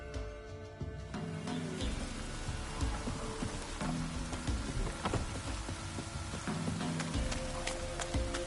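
Steady rain falls in The Witcher 3 video game, a soft continuous hiss with scattered drop patter, fairly quiet, with low rumbling and faint game ambience underneath.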